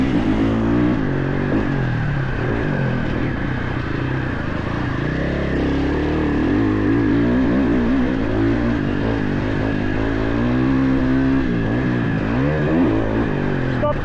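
A car driving laps on a race track, its engine a loud, continuous drone that rises and falls in pitch as it works through the corners.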